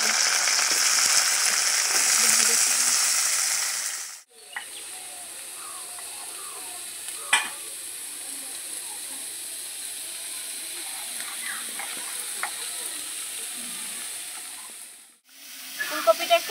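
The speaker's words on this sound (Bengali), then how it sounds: "ফুলকপিটা একটু ভাজা ভাজা হয়ে গেছে" Cauliflower frying in oil in a wok while making singara, a steady close sizzle and hiss that breaks off briefly partway through and again near the end, with faint stirring clinks.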